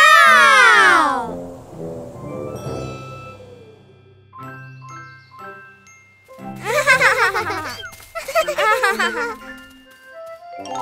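An animated cartoon cat meows repeatedly, with long, loud, wavering cries sounding alone between bursts of cartoon music, chimes and jingles.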